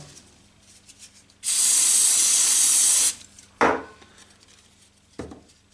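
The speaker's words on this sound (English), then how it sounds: "On the other part, you just spray the activator." A steady aerosol spray of glue activator hisses for nearly two seconds, close and bright, followed by a couple of sharp knocks of handling.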